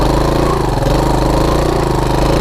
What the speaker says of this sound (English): The clutch is slipping.